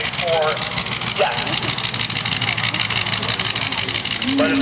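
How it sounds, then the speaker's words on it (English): A World War I Liberty aircraft engine, unmounted, runs steadily at an air show with a loud, even mechanical drone, while people talk briefly over it. "We've got a very unique engine to demonstrate for you folks, in addition to the rotary engine."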